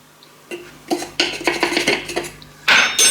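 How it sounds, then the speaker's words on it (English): Metal kitchen spoon scraping and clinking against a cup while spooning powder coating powder into it, a few close, light taps and scrapes in quick succession. "I'm going to just put about 3 spoonfuls in there."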